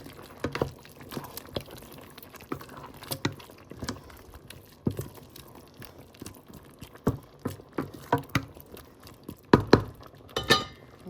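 A spoon stirs zucchini, boiled jackfruit seeds and lentils in a cooking pan, giving scattered clinks and scrapes of metal against the pan that grow busier and louder toward the end, with no talking.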